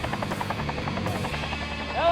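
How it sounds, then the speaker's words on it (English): Helicopter hauling construction materials and tools to a site, its rotor beating in a fast rhythmic chop close by, with a mechanical whine rising near the end. "Helicopter!"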